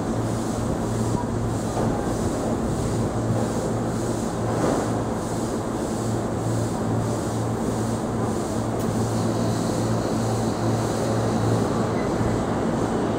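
Rinkai Line E233 series electric train pulling out of Osaki station, a steady rolling rumble with a low motor hum that stays loud and continuous throughout, platform ambience around it.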